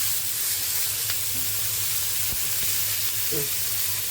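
Tomato dropped into onion masala frying in oil in a pan, a steady close sizzle running throughout with a few soft stirring clicks and no talk.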